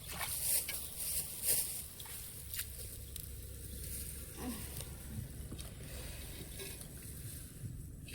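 Rain falls in a steady, even patter that fills the whole stretch, with a few louder drips near the start and no voices on top.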